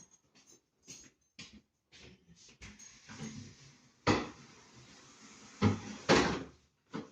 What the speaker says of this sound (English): Let's open the door to get some light in here.